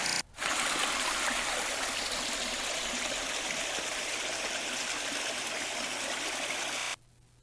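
Continuous rushing water roars steadily like a nearby waterfall, broadband and unbroken, cutting off abruptly near the end.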